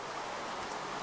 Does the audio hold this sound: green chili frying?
no